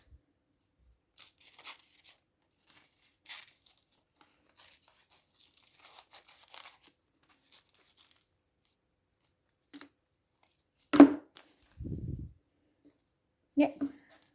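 Scissors cut circles from newspaper for a Cubist collage, giving sparse, quiet snips and paper rustles scattered across a silent room, with a few louder crinkles and handling noises near the end.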